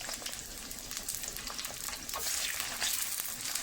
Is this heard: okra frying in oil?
yes